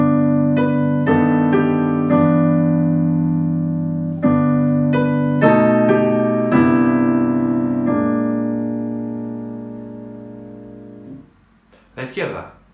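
Piano playing the third section of Jingle Bells as a slow tutorial demonstration, a steady sequence of sustained notes and chords ringing out alone, ending with a short noisy rustle.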